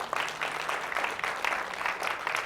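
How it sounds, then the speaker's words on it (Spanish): Church congregation clapping after a pastor's sermon calls for applause, a lively, rhythmic burst of many hands with pulsing swells, fairly close and continuous. "Den un fuerte aplauso al Rey."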